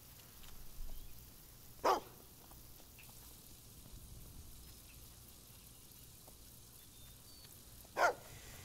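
A dog in the video game Fable II gives two short, sharp barks several seconds apart over a quiet outdoor ambience with faint patter.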